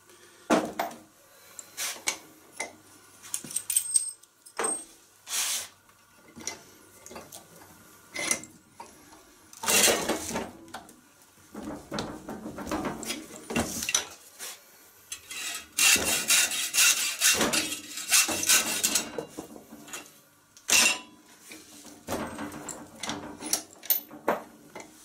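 Ends being cut off a plastic cool box for a homemade mash tun, heard as irregular bursts of rasping, sawing friction separated by short pauses, with a longer sustained stretch midway.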